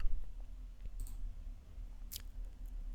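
A mouse click on an agree button, a couple of brief, faint clicks over a quiet room background.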